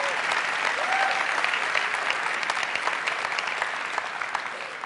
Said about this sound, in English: People are cheering for you, Lola.